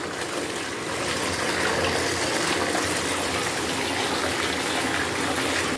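Hot water pours steadily into a fabric-washing basin or tub, a continuous broadband gush that stays loud and even for about six seconds with no talking.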